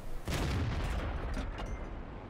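Cannon fire from a Bat.-Chatillon 25t tank in a World of Tanks style game on the Fiery Salient map: one loud, close, booming shot kicks in sharply near the start and rumbles on through a dense low-frequency tail.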